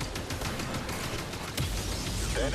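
Dense volleys of blaster-like gunfire and a heavy cannon shot ring out in Star Wars Jedi Fallen Order combat, a steady barrage of rapid loud bursts with no talking.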